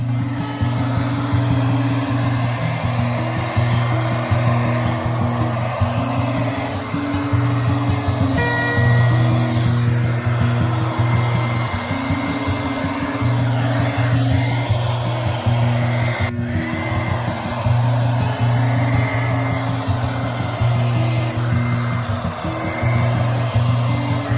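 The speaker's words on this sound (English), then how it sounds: "Finally, we'll use the blower for mixing the colors or for the textures like this." An electric blower pushes paint around to mix the colors of a Dutch pour painting. It gives a loud, steady, hairdryer-like whirring hum that pulses gently as the airflow shifts, and runs continuously with no talking.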